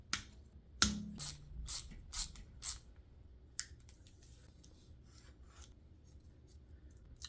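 Zip ties being snipped while assembling a Holley EFI conversion fuel tank, a sharp close click followed by a few lighter clips and rasping plastic rubs, then quiet handling noise.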